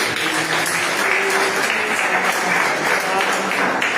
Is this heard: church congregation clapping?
yes